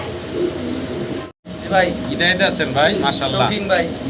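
Fancy pigeons of large size coo close by, soft repeated throaty calls layered over a busy background, with a brief dropout partway through.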